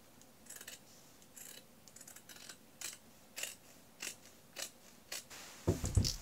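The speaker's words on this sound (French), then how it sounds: "je vais couper les manches du t-shirt pour arriver à une coupe débardeur" Fabric scissors snip through cotton t-shirt sleeves in a series of short, crisp cuts about every half second, close and fairly quiet, with a louder rustle of handled cloth at the end.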